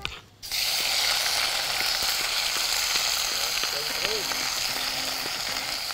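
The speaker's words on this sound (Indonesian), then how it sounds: "masukkan bumbu yang telah dihaluskan ke dalam minyak panas di penggorengan dan tumis hingga" Ground spice paste sizzles steadily in hot oil in a wok, a dense continuous frying hiss with faint scraping stirs, close and fairly loud after a short quiet start.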